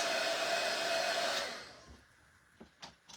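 A hair dryer blows loud and steady over patterned carrot crafts, then winds down and cuts off partway through, followed by a few light taps and knocks.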